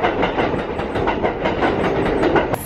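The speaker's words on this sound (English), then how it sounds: "The train is coming." Train passing in New York City, a loud, steady rumble with rhythmic clickety-clack of wheels on rails throughout and a brief high squeal at the very end.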